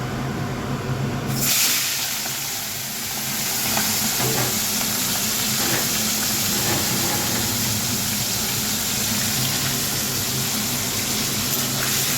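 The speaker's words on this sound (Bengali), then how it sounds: "কড়াইতে তেল দিয়েছি দিয়ে এবার মাথাগুলোকে আগে ভেজে নেবো" Fish heads sizzle and crackle in hot oil in a wok, a dense, steady frying hiss that runs for the whole stretch after a sharp change near the start, with no talking.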